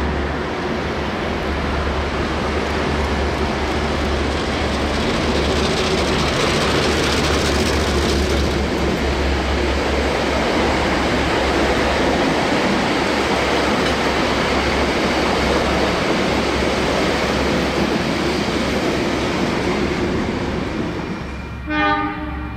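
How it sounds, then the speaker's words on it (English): A DA-class diesel locomotive drones steadily as it hauls empty carriages, loud and continuous, with a brief horn-like burst near the end. "DA 1431 ran around the train and took the empty carriages to the Waltham car yard"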